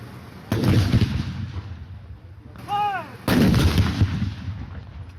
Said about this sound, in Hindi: 21 तोपों की सलामी से हुआ।